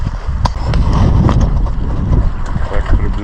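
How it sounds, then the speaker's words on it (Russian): A motor boat draws nearer across the water on the route to Kebnekaise, its low engine rumble steady under heavy, buffeting wind on the microphone and scattered splashes. "Так приближается катер."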